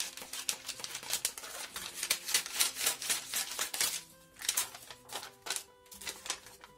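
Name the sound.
cutting out a shirt collar in fabric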